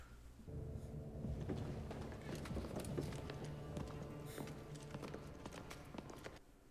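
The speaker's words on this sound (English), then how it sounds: "Listen to his footsteps," A character's footsteps in the show Daredevil: Born Again, a run of firm, evenly paced steps over a low sustained musical drone.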